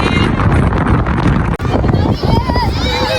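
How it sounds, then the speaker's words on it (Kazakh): Horse ride at a Nauryz holiday celebration in Astana, with girls riding alongside an instructor; hooves clop steadily under strong wind buffeting the microphone, with voices talking throughout. "Атқа міну."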